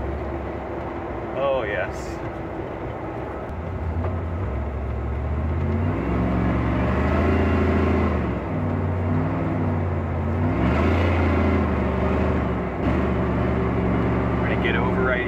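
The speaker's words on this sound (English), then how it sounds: "Listen to the supercharger." A Chevrolet 3100 truck's supercharged Corvette Z06 engine drones and rises in pitch under acceleration, with a low steady roar inside the cabin and a brief spoken remark over it.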